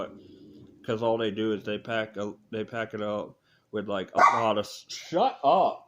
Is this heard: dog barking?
yes